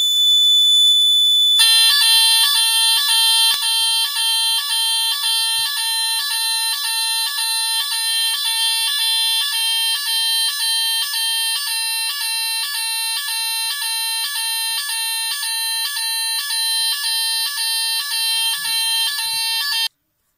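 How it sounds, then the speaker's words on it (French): An ATSE fire alarm siren blares continuously, a loud, piercing electronic pulsing tone that kicks in after a brief moment and holds steady to the end. "la sirène là-haut c'est un monstre"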